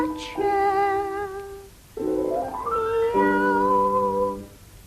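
A voice imitates a cat meowing, three drawn-out, sliding meows in a row, close and clear with short pauses between them.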